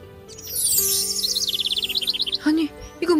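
Birds singing, with a quick run of rapid, repeated high chirps and whistled trills that sounds close and clear, followed by a couple of lower short calls near the end.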